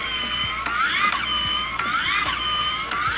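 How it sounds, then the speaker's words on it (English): The magnet of a PRECICE limb-lengthening device turning during a treatment session, heard as a continuous mechanical whir with rising, sweeping whines that repeat about every second, steady and close, with no talking. "And so what you're hearing is the rotation of the magnet"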